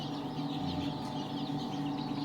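Darag native chickens clucking and murmuring together at a breeding farm in Palayan City, a dense close chorus of soft clucks over steady background hum with no voices.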